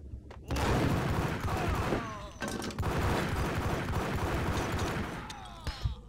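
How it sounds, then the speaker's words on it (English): Max Payne gameplay brings a loud, dense stretch of gunfire and explosive blasts, rapid shots layered over booming rumble for several seconds, with a brief lull in the middle. "This fucker's about to throw a grenade."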